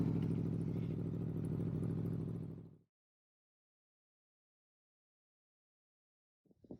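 A motorcycle on a tour around Snowdonia and Mid Wales gives a loud, close engine drone for nearly three seconds, then cuts to silence, with a brief faint rumble returning at the end.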